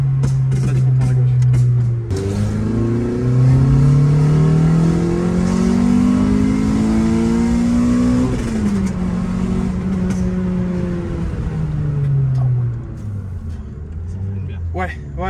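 A Renault Clio 3 RS Cup engine revs and surges up close with a rough, rumbling exhaust popping through a hole in the catalytic converter, pitch climbing and dropping repeatedly while people talk over it.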